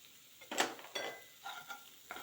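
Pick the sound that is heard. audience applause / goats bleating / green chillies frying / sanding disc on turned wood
green chillies frying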